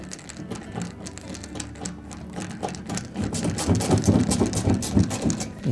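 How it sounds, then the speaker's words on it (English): A screwdriver driving a screw into the front panel of a Whirlpool washing machine during a drain pump replacement, a close, rapid mechanical ratcheting whir that grows louder and denser toward the end, with no talking. "we'll put the center screw in first"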